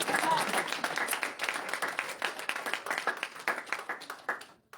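A church congregation applauds and cheers for Jesus, dense rhythmic clapping that sounds fairly close and fades toward the end, with voices mixed into the crowd.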